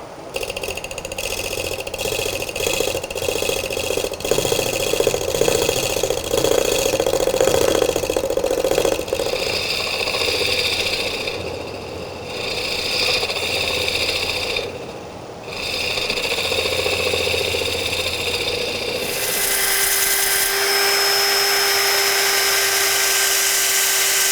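A woodturning lathe spins a walnut bowl while its bottom is cleaned up, a steady mechanical hum with a rattling tone and tool scraping, close and continuous, easing to a smoother whine near the end.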